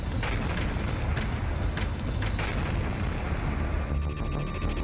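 Dense, roaring blast noise with sharp bursts and crackling debris, a rolling explosive rumble that stays loud throughout.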